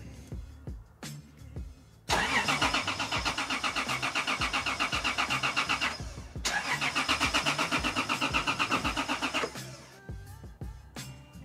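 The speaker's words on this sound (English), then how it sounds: "As soon as we started hearing the starter cranking" A Toyota 2JZ engine swapped into a Nissan 240SX cranks on its starter in two long, loud, rhythmic bursts of about four and three seconds, with short pauses and clanks around them.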